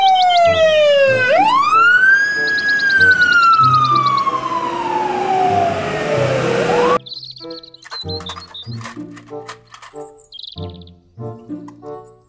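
A loud, close wailing toy fire truck siren sweeps up and down in pitch for several seconds, then cuts off into clattery electronic toy sounds and beeps.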